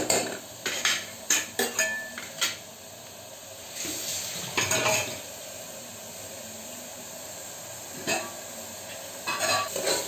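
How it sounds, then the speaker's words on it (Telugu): Potato kurma fries in a pan while a spoon stirs it, giving quick clinks and scrapes against the metal in short bursts over a low, soft sizzle, close up with no talking. "మధ్యలో అడుగంటకుండా కలుపుతూ ఉండాలి."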